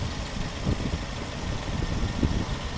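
A 2008 Mercedes A150 with a naturally aspirated 1.5-litre petrol engine and automatic gearbox, running at a steady idle as a low, even rumble with no voices.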